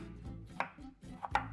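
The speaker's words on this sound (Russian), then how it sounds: "Ну и под конец нам осталось нарезать только лук и чеснок." A knife chops onion on a cutting board for a bolognese sauce, several sharp close taps in quick succession with soft slicing between them, clear and unaccompanied by speech.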